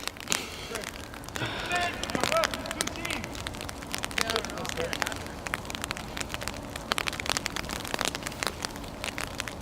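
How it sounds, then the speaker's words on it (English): Steady rain patters over a semi-professional football match, a soft continuous hiss with scattered crackling drops, heard behind a commentator's ongoing voice. "Steady rain here still."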